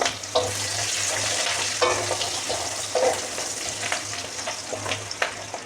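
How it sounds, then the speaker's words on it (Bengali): Onions frying in hot oil for chili chicken, a continuous bright sizzle near at hand with repeated scrapes and knocks of a spatula stirring them, no talk over the cooking. "তেল গরম হয়ে গেছে, এতে কিন্তু আমি পেঁয়াজগুলোকে দিয়ে দেব। একটু নেড়ে দেব।"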